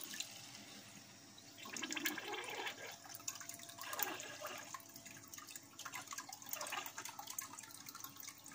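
A pump in a homemade aquarium UV sterilizer setup pushes water through, giving a close, continuous gurgle and splash of flowing water with small drips and bubbles throughout.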